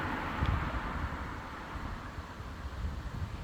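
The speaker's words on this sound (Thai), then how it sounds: "ขนาดลมแรงนะคะ" Strong wind blows through an apple orchard heavy with fruit, a low rumbling buffet against the microphone with a sharper gust near the start, then a steady rushing that continues to the end.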